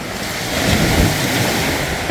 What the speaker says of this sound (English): It's pretty windy, eh?